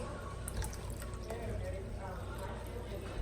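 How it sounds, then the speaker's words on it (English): Water pours steadily into a marinating container holding pork steaks, a continuous liquid splash and trickle that runs the whole time at moderate, close level with no pause. "Just gonna add a little bit of water."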